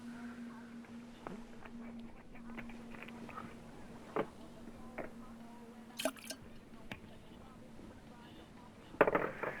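Water collects in Stranded Deep, heard as quiet scattered drips and soft wet plops over a steady low hum, with a brief splashy patter toward the end.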